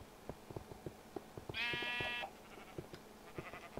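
A single sheep bleats once in the video game Minecraft, a loud, wavering call standing out over a steady run of soft, regular clicking footsteps.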